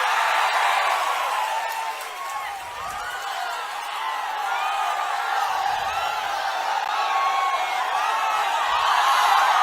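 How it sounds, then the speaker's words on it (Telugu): A large crowd at a political public meeting in Nellimarla claps and cheers in a dense, steady roar, with whistles and shouts rising through the noise for the whole stretch. "సిద్ధమైతే గట్టిగా చప్పట్లు కూడా చెప్పండి, మేము సిద్ధమని."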